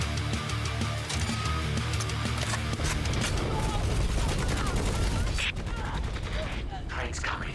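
Rapid gunfire in the video game Necromunda Hired Gun, dense bursts of shots and automatic fire crackling continuously at close range, with a sharp drop in intensity near the end and a voice speaking over it.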